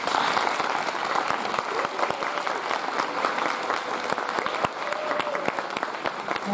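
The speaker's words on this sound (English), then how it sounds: "A big round of applause for our" Sustained, dense audience applause after a talk at a school science day, with many hands clapping steadily and evenly throughout.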